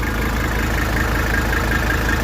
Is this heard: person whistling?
no